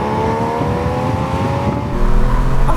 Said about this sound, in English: here's an opportunity to just rev it out.